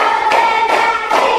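A primary school class claps a counted clapping pattern in a classroom: three loud group claps at an even pace over a steady hum of children's voices.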